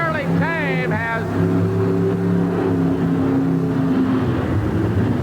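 A monster truck engine roars and revs hard in an arena at a 1988 TNT monster truck show in St Paul, Minnesota, loud and continuous under an excited announcer's commentary.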